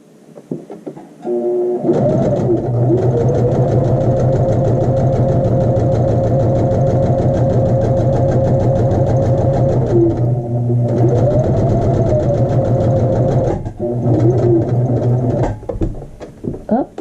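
A sewing machine stitching quarter-inch practice lines on a muslin square runs in a loud, steady mechanical whir close by, pausing briefly at about ten and fourteen seconds before starting again.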